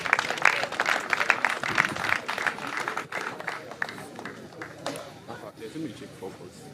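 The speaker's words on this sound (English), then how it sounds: "Please, a round of applause for him." A crowd at a university matriculation ceremony claps for a speaker, the applause fairly dense at first and thinning as it fades, with voices murmuring beneath it in a large hall.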